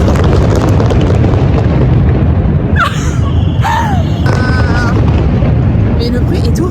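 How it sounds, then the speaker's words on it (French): Loud, continuous rumbling booms of fireworks going off nearby in Busan, South Korea, with a dense crackling roar and some whistling tones threaded through. "il y a le feu d'artifice magnifique en plus"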